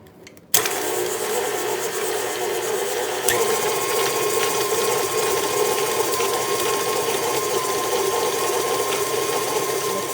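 An electric mixer blends butter and white sugar for eggnog snickerdoodle cookie dough, a steady close motor whir with a rhythmic beater rattle that starts abruptly and runs continuously.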